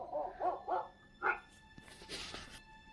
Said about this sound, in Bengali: কোথাও একটা কুকুর ডাকছে